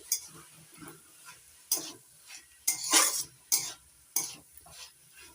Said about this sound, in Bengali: এবার নাড়াচাড়া করে ভালো করে মিশিয়ে নেব শাকের সঙ্গে।